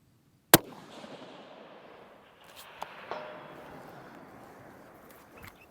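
A distant rifle shot from a SAKO TRG 22 A1 in 6.5 Creedmoor at a steel target about 652 yards away, with a sharp single crack followed by a faint, delayed ping of the hit and soft outdoor ambience.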